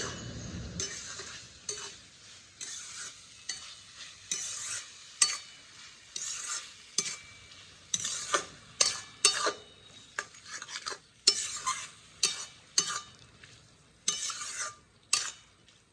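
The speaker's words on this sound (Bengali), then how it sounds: "মশলাটাকে কষাতে হবে এবার।" Spice paste with red chilli powder and Kashmiri red chilli powder being stir-fried for a snail curry: a spatula scrapes and clanks against the pan in repeated strokes over a steady sizzle, close and fairly loud, with no talking.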